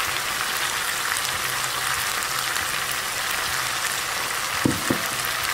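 Tomato chutney with ground spice powder frying in oil, giving a steady, even sizzle with a couple of brief soft clicks near the end. No voices.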